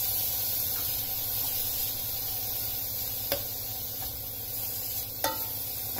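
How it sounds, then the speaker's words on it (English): Cabbage and carrots sauté in a pan with a steady, even sizzle and hiss throughout, interrupted by a couple of brief sharp clicks from stirring. "I'm just going to allow this to saute for about 3 minutes"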